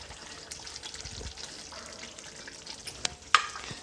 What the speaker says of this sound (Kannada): ಒಂದು ಸರಿ ಚೆನ್ನಾಗಿ ಮಿಕ್ಸ್ ಮಾಡ್ಕೊಳ್ಳಿ